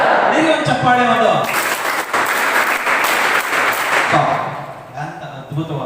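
An audience at an exam-fear talk for SSLC students breaks into loud, dense applause that swells for a few seconds and then fades. A voice speaks before and after it.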